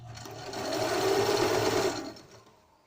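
A sewing machine runs a steady zigzag stitch, sewing a zipper onto a cushion cover; the close, continuous motor whir swells for about a second and a half, then winds down and stops.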